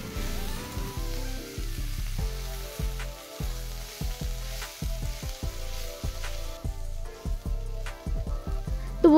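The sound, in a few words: shushni saag (water clover greens) stir-frying in pan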